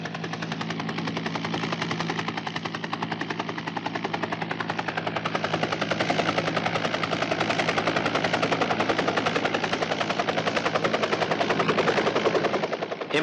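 A helicopter lands on a sacred mountain during a 1974 expedition, its rotor chopping hard and steady for the whole stretch, close and loud with no talk over it.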